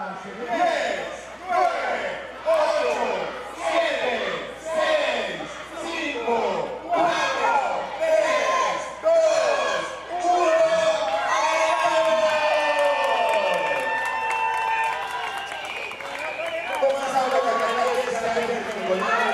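Crowds of cheering school supporters whoop and shout in rhythmic bursts at the start of a race in Colima's Parque de la Piedra Lisa, the lively chanting building and swelling, with a narrator talking over it.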